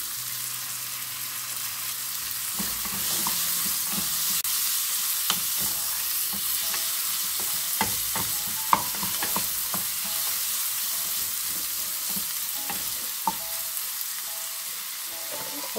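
Leek and seasonings sautéing in a pan for a banana-peel picadinho, a steady low sizzle with scattered scraping and stirring clicks from a utensil, close and continuous with no talk.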